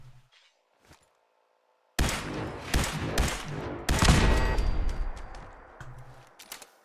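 Turret gunfire in the video game Fallout 4: after two near-silent seconds, loud rapid volleys of shots and impacts erupt and continue in bursts until the end.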